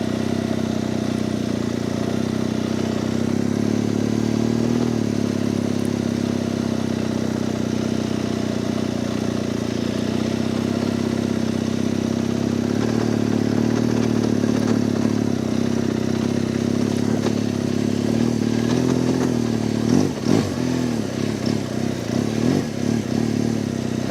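A motorcycle towing a dead motorcycle on a tow strap runs with a steady mid-pitched engine drone for the whole stretch. Near the end it picks up some rough, uneven pulsing.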